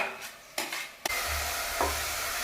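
Chili lands in a hot pan with a few sharp clacks, then a steady, loud sizzle takes over while a spoon stirs and scrapes through it.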